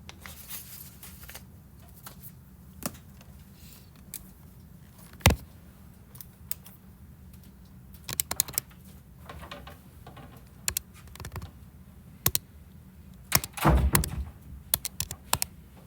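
Calculator keys pressed while entering a logarithm calculation for a precalculus problem, scattered soft clicks and taps at irregular intervals, faint and close, with no talk.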